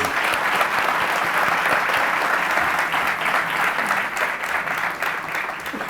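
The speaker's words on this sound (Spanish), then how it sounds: "un aplauso para los dos" Live audience at a radio event applauding two guests, a steady wash of many hands clapping that stays loud and even throughout, with no talk over it.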